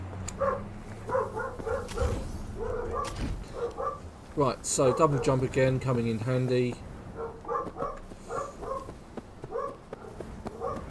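Several dogs bark in bursts through the middle of the clip, a loud run of repeated barks and yips, while someone talks over gameplay sounds before and after.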